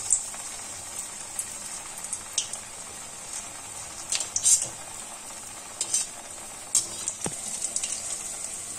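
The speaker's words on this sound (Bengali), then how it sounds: "তেলটা আমার গরম হয়ে গেছে আমি একটা একটা করে কোপ্তাগুলো ভাজব" Green banana koftas fry in hot oil, a soft steady sizzle with scattered crackles and small spatters, heard close with no talk.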